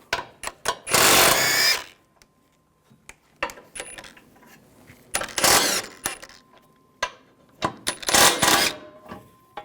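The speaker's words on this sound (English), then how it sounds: "Using a 16mm socket, take these bolts out up top and on the bottom." A ratchet fitted with a 16mm socket backs out the bumper bolts on a 2009-2017 Volkswagen Tiguan. Three loud bursts of rapid clicking stand out, with scattered small clanks and handling noises in the quieter stretches between them.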